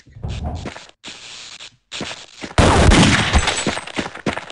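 Bursts of gunfire in Half-Life: Opposing Force, loud and close, coming in short separated volleys, then a longer sustained barrage of rapid shots toward the end.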